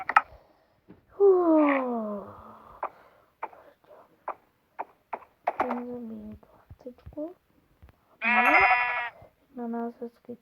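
Sheep in the Minecraft game bleat several times, with drawn-out wavering cries and shorter calls spread across a quiet background, loud and close.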